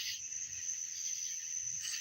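Crickets chirp outdoors in a constant, high and shimmering trill that stays faint and even, and low croaks from frogs may sit underneath.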